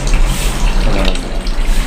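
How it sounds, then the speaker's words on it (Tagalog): Water runs from a tap into a container, a steady loud rushing and splashing that continues without pause for the whole stretch and drowns out other sounds. "Dito kami kumukuha ng tubig."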